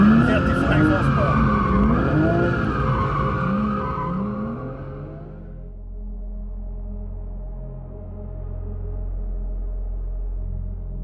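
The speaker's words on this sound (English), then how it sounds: "If we lightly apply throttle to get the car sliding, we can hold the car out there, balancing the car in the slide" A Porsche 911 GT3 with 435 horsepower slides under light throttle on a track, its engine note rising and falling and its tires squealing loudly for several seconds before the sound drops to a low, steady rumble. A voice talks over the first half.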